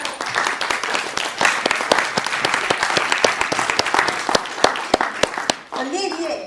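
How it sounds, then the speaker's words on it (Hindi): An audience at a stage play claps to welcome the actors, a close, lively burst of many hands with sharp individual claps, fading out as a voice begins speaking at the end. "तो जोरदार तालियों से स्वागत कीजिए हमारे कलाकारों"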